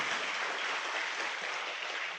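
A seated audience at a motivational talk claps steadily for a couple of seconds, a dense, even patter of hands at moderate volume with no voices over it.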